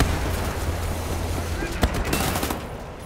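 Dual-wielded assault rifles firing in the shooter Wolfenstein: The New Order, a dense continuous roar of gunfire under game noise, with a sharp louder crack near the middle and the firing trailing off at the end.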